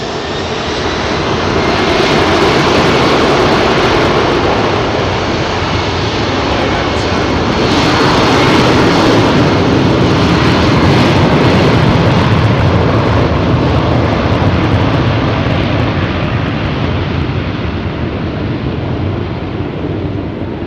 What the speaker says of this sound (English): this is the last departure out of 27 right